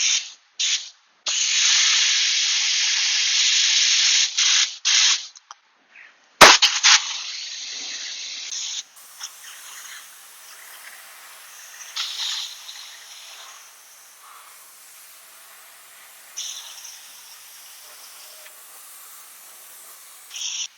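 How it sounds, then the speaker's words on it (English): A spray gun applying water-based automotive undercoating hisses in several sharp bursts, then continues in softer, intermittent sprays, close by with no talking. "Lock in your spray gun."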